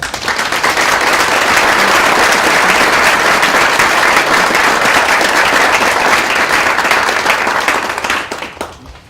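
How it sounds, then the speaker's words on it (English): Loud, sustained audience applause for graduates at a university fall honors convocation, a dense wall of clapping that holds steady for several seconds before tapering off at the end. "let's give them a big round of applause"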